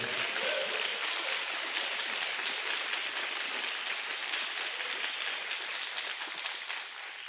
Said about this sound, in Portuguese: Só quem crê, dê uma forte salva de palmas para o Senhor Jesus